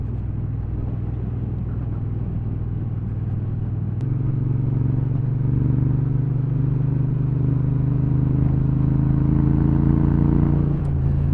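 A Triumph Bobber motorcycle engine idles with a steady, loud low rumble that deepens and swells slightly after a few seconds, running alone with no talk over it.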